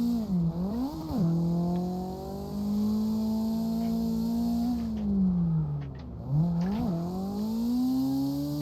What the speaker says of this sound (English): the car lugging and not able to pull through the grip